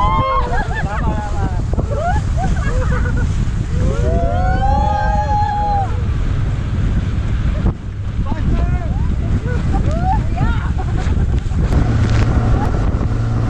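A speedboat runs across deep water at sea off Boracay while towing a banana boat, its engine drone and rushing wind and spray steady and loud throughout, with voices shouting and cheering over the noise.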